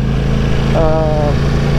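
A 2018 Ducati Panigale V4 motorcycle idles with a steady, close engine rumble, and a brief tonal whine rises over it midway.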